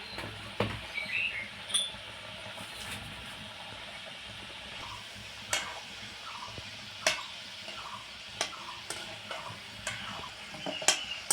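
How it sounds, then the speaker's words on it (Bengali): Sweets frying in hot white oil in a wok give a steady low hiss, broken by scattered sharp clicks and taps, close by and fairly quiet, with no talking. "তেলটা গরম হয়ে গেছে, এবার মিষ্টিগুলো ছাড়বো।"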